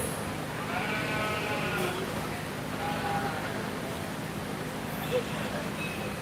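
Middleweight meat goats at a 4-H/FFA show ring bleat faintly and repeatedly, with drawn-out calls heard over steady crowd murmur and background hum at a fair.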